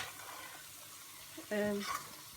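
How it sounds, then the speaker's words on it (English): Turmeric is stirred into a vegetable curry: a quiet sizzle runs through, then a brief louder scrape of the spoon against the pan near the end. "you do need to really stir in your turmeric once you get it in"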